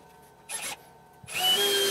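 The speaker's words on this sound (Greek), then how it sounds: "κάνουμε πρώτα τρύπημα και μετά βίδωμα για να μην μας ανοίξει το ξύλο στα δύο" A power drill works into a solid pine bathroom shelf, with a short burst of drilling followed by a longer, steady whir of driving a screw, close and fairly loud with no talk.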